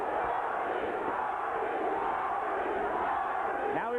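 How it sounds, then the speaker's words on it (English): Boxing arena crowd at an Arturo Gatti fight roaring and chanting his name in a steady, loud, continuous wall of voices that fills the whole stretch without a break. "Crowd chanting, Gatti, Gatti, Gatti"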